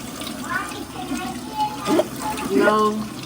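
Tap water runs and splashes while a boy's locs are rinsed, a moderate, uneven flow near the sink with a voice briefly heard over it.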